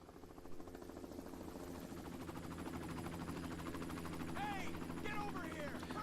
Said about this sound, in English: This poor motherfucker shooting this helicopter pilot to death.